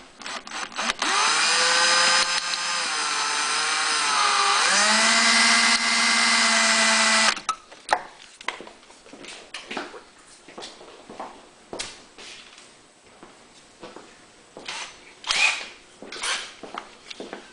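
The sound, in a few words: drilling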